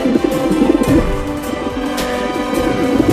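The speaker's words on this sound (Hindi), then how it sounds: "वो रहा कमीना कबूतर।" A cartoon pigeon coos in a few soft, throaty, repeated burbles over a busy low background, moderately loud and near.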